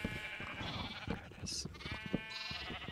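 Minecraft sheep bleat repeatedly, wavering baas in overlapping succession over a few seconds, with a faint voice underneath and a short hissing burst midway.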